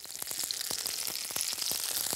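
Small Burmese meatballs frying in vegetable oil, a close, continuous hiss of sizzling broken by quick sharp crackles and spatters.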